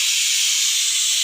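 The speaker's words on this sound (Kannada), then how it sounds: "ಕುಕ್ಕರ್ ವಿಜಲ್ ಬಂತು." Steady, loud hiss of steam escaping from a pressure cooker whistle in a home kitchen, continuous and close with no break.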